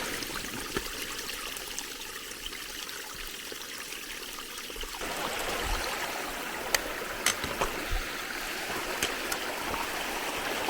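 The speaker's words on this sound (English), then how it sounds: "Officially at the river." A mountain river in the Carpathians flows steadily with broadband rushing and trickling water, loud and continuous throughout, with a few small splashes or knocks near the end.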